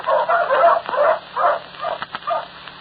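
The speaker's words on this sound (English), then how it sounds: "Those are two very excellent pointers you have there, Charles." Two pointer dogs on a bird hunt in a 1946 radio drama give repeated whimpering yips and short barks in uneven bursts, fairly close and clear, with no talk over them.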